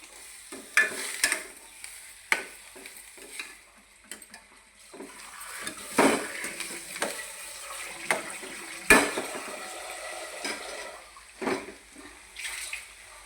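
Boiled fish eggs, salted while cooking, frying in a pan with a steady sizzle, punctuated by several sharp scrapes and clinks of a utensil being stirred against the pan.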